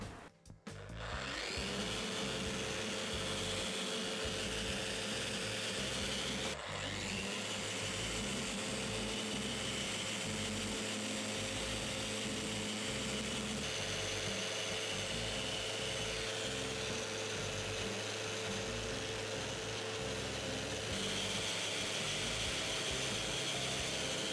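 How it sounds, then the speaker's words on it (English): An electric sander whines and buzzes steadily at close range, its droning tone shifting slightly as it sands the wooden top of a vintage sideboard for a long stretch. "that's all the sanding of the top done"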